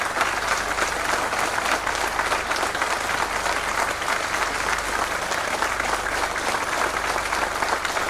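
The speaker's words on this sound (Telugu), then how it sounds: "అందుకని ఆయనకి చప్పట్లు కొట్టమన్నా గట్టిగా." Sustained applause from a large audience at a Telugu spiritual discourse, dense and steady throughout, loud and continuous with no talk over it.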